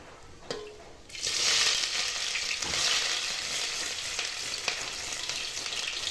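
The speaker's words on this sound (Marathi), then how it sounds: "पहिला खडा मसाला घालून घ्यायचा मग कांदा घालून घ्यायचा" Whole spices and onion fry in a pan for a mixed vegetable and spiced rice meal. A steady close sizzle starts after a second of quiet and carries on with occasional clinks of stirring, with no voices.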